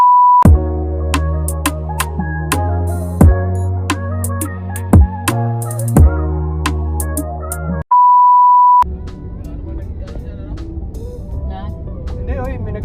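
A timer gives off a steady electronic beep, once briefly at the start and again as a longer tone partway through, standing out over busy background music and clatter.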